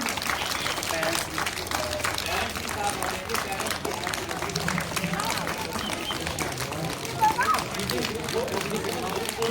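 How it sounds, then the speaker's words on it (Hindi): An audience claps to welcome a young kindergarten pupil onto the stage at a school annual results ceremony. The clapping runs steadily for the whole stretch, blended with crowd chatter and voices. "जोरदार तालियों के साथ निमरा को स्वागत किया जाए"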